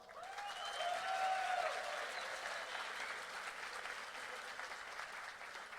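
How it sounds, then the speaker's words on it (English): An audience at a hackathon welcome event in Puerto Rico gives steady applause, a continuous wash of many hands clapping that swells early and then holds evenly, with a faint whistle near the start. "give him a round of applause."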